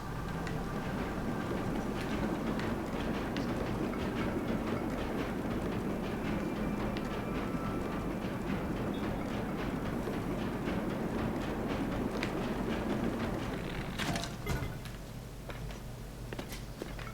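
A little minecart train rolls steadily along its track in Zelda: Tears of the Kingdom, giving a continuous rumbling clatter with faint clicks, at an even level before easing slightly near the end.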